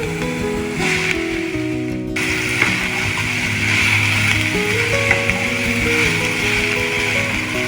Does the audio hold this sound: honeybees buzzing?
no